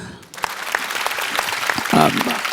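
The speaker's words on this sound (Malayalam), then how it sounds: "മകളൊന്ന് കൈയടിച്ച മകളെ" Studio audience applause on a Malayalam comedy stage show, scattered claps building into fuller clapping with a louder burst near the end, mixed with voices and noise.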